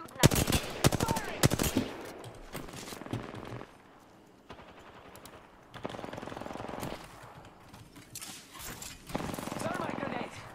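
Enemy gunfire in an Apex Legends match, bursts of rapid shots in clustered volleys with gaps between, loud and close, with a voice talking over parts of it.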